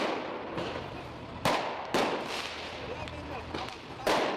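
Makeshift firework bazookas fired at a street protest, giving a run of sharp cracks and bangs over a constant crowd roar, with talk mixed in.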